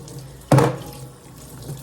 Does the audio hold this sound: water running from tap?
yes